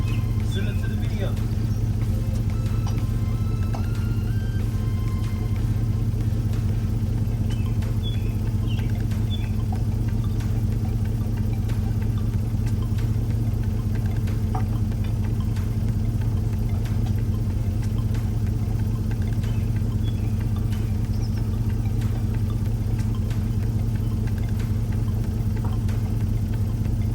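A truck engine, sitting unused for two weeks after a break-in, idles in a steady low drone that holds an even, unbroken rumble throughout with no clear start-up burst.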